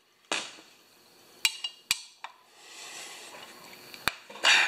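Knuckles crack with a few sharp, isolated snaps between stretches of rustling handling noise, heard close up while someone works on a pressure washer.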